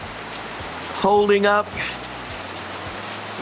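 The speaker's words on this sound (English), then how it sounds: "the rain's coming down, and our roof is coming down" Heavy rain drums steadily on a tent tarp, a dense continuous patter throughout, with a voice briefly speaking over it midway.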